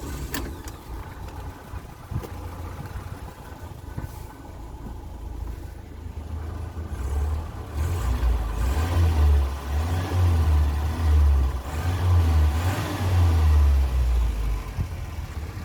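A Ford Escort Mark III engine idles with a low, uneven rumble, then is revved repeatedly in rising and falling surges, close and loud, with mechanical clatter early on.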